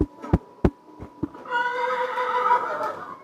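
Several sharp hoof knocks are followed by a loud, shrill horse neigh with a shaky, wavering whinny. It comes from a played recording and sounds close and clear, with no talking over it.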